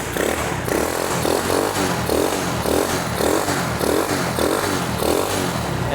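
A rat-rodded Honda Cub 140cc motorcycle with a 4-speed transmission and small pipe idles and revs in loud, rhythmic pulses with a clattery, rough engine note, close by.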